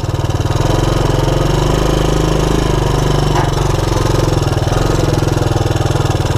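A Honda Big Red ATC200ES three-wheeler engine idles steadily up close, a loud, even, low-pitched putter with a fast regular pulse that holds throughout with no talking.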